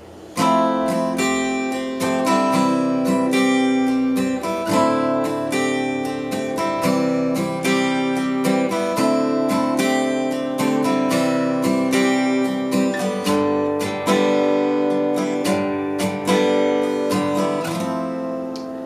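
Basic guitar chords strummed in a steady rhythmic pattern for the intro of a song, bright and close, ringing throughout with no talking.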